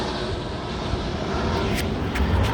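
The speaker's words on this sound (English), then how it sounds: "Sorry, I got an airplane." Fixed-wing airplane passing overhead near an airport, a steady loud engine roar that swells slightly toward the end, heard outdoors by the water with no talking over it.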